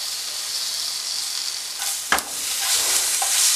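Tomato sautéed in masala for Kerala-style kadala roast, a continuous bright sizzle with one sharp spatula knock on the pan midway, close and steady without speech.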